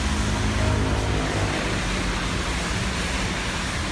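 Traffic on a wet road, a continuous loud hiss and rush of tyres on wet asphalt with a low rumble, steady and broadband throughout.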